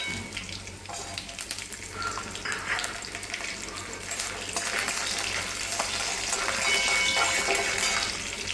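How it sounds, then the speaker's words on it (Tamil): Mustard seeds spluttering in about three spoons of hot oil in a kadai, a steady dense crackle and sizzle close by that thickens toward the end, with no voices over it. "எண்ணெய் சூடானோடனே கடுகு போட்டுக்கோங்க. கடுகு பொரிஞ்ச உடனே கருவேப்பிலை, பூண்டு,"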